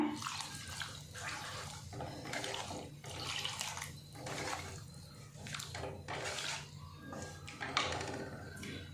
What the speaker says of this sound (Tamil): இப்போ வந்து எவ்வளோ தண்ணி வேணுமோ இப்போவே ஊற்றிக்குங்க